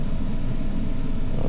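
A 2014 Dodge Ram 1500 with a misfire, its engine rumbling close and loud as the throttle is snapped, a steady low roar with no clear rise or fall over the short stretch.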